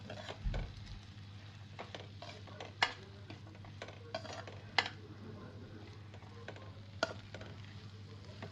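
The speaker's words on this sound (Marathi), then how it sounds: "आपल्याला हे व्यवस्थित छान परतवून घ्यायचं आहे" Soaked peas sautéed over a low flame in a pan, with a faint sizzle and a few scattered spatula scrapes and light metal clinks, heard close and quiet with no talking.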